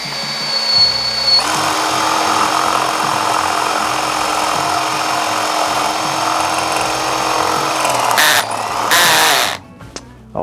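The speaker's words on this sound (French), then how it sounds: "regardons maintenant ce que ça donne avec un morceau de bois de palette avec une mèche de 20" A drill running at maximum speed bores through pallet wood with a 20 mm bit, a loud steady close whine with grinding. It ends in a few sharp bursts and a stop.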